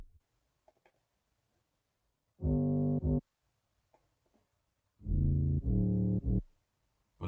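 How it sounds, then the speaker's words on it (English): FL Studio drill 808 bass playing solo at full velocity with shortened notes and no slides: deep, booming sustained tones in two short phrases separated by near silence, loud and clean with no voices. "Then the 808 comes into place, and I'm gonna play this on its own."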